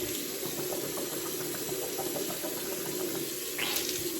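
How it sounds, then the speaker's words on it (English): Tap water runs steadily into a sink for rinsing the mouth, a close, continuous rushing that ends with a brief splash near the end and no talking. "Next, I'm gonna rinse my mouth out with water."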